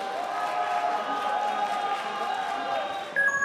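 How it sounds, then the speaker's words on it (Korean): A school quiz-show audience gives a round of applause, moderate and steady clapping with some crowd murmur that carries evenly through the whole stretch and ends with a brief bump at the close. "박수 한번 주시기 바랍니다."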